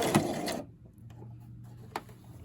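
A home sewing machine stitches a zigzag seam joining elastic for a square skirt, a brief whirring run followed by a soft, steady low hum and a couple of faint clicks, quiet and close.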